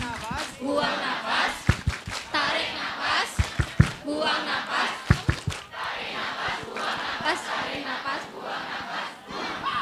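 An audience of university students in a large hall performs a rhythmic group clap chant, crowd voices and shouts mixed with bursts of sharp claps, under a leader's talk.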